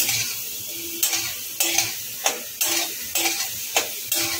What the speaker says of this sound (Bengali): আলুটা লাল করে ভেজে নেওয়া হয়ে গেছে